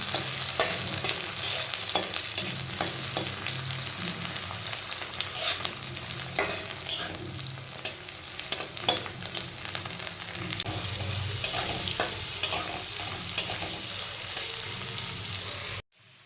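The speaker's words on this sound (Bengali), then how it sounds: "তো একে একে আমি সমস্ত সবজিগুলোই এইভাবে একটু তেলে ফ্রাই করে নামিয়ে নিচ্ছিলাম" Vegetables fry in hot oil for chicken chowmein, a steady close sizzle lasting throughout with frequent scraping and clattering from stirring, before it cuts off abruptly at the end.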